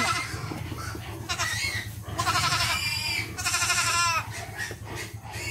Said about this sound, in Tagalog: Naiyak ng isang kambing.